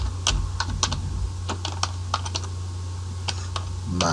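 Someone taps out text on a computer keyboard in a steady, unhurried string of clear keystrokes over a constant low hum of room or machine noise.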